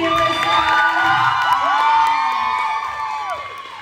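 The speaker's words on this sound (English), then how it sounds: "Ladies and gentlemen, one more round of applause for Brittany Alyssa." Crowd cheering, whooping and shouting after a pole dance showcase at a fitness studio, loud and sustained with high voices rising over a dense wash of noise before easing slightly at the end.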